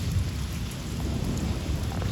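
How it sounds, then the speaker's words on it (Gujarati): A low rumble of thunder rolls beneath steady rain in a village during a strong storm, loud and continuous throughout, with no speech. "વાદળ જો ગાજી"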